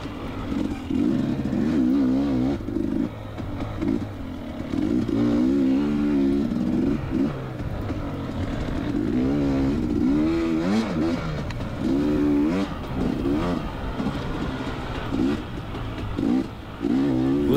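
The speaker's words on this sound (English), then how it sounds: "Listen to that sweet, sweet sound of the FMF exhaust on this bike." A motocross bike fitted with an FMF exhaust revs and accelerates around a dirt track at High Desert MX, its engine note rising and falling in repeated surges as the rider shifts and throttles through the course.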